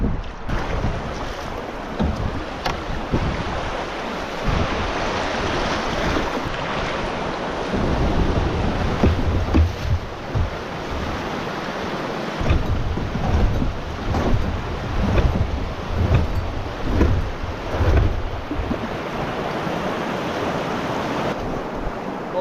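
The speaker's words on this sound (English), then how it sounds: "Looks like we got another little whitewater area coming up." Rushing whitewater rapids roar steadily around a canoe on a river, loud and close, with wind buffeting the microphone throughout.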